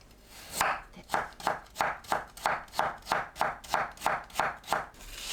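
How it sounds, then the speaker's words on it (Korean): A knife finely julienning carrot on a cutting board, about a dozen crisp, evenly spaced chops in a steady rhythm, close and clear. "당근을 곱게 채 썰어줍니다"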